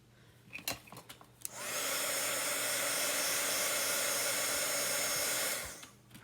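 A hair dryer blows over chalk paste and glitter on a craft piece, making a steady airy whoosh that switches on after a few soft handling noises, holds evenly for about four seconds, then winds down.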